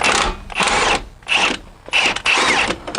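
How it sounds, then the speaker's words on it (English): A large half-inch-class impact wrench loosens wheel bearing bolts on an E53 BMW X5 rear hub, firing in several loud, close bursts of rapid hammering separated by short pauses. "I've switched to my larger impact wrench, which is the equivalent of like a 1/2 inch pneumatic impact wrench"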